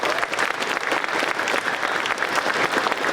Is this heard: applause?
yes